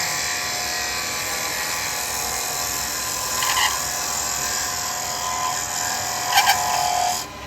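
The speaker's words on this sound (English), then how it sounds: "So we can come in with our spindle gouge." A spindle gouge cuts into spinning wood on a woodturning lathe, a loud, continuous whirring hiss with a steady motor drone and a couple of brief louder bumps near the end.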